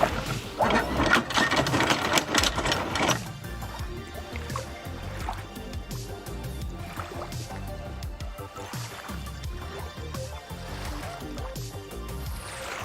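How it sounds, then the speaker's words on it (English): A loud rattling clatter of a boat's anchor chain running out for a few seconds, then quieter rumbling and knocking with water and wind noise around. "You can now start paying out your anchor chain."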